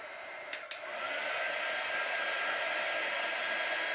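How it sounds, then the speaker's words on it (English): Heat set drying tool blowing hot air over a chalk transfer during a craft project, starting after two quick clicks and then holding a steady, loud whooshing hum with no talk. "That's one of the nice things about this drying tool. Heat set tool."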